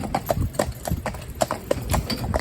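Gelderlander horses walking, their hooves clip-clopping in a steady, even rhythm at close range, with faint background noise and no talk over the hoofbeats.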